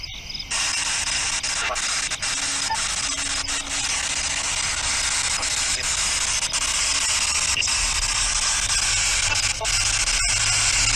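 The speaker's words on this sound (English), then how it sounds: "We'll see if we can get anything with the white noise TV thing." Loud, continuous hiss of television white-noise static, a dense unbroken wash that starts abruptly and holds steady throughout.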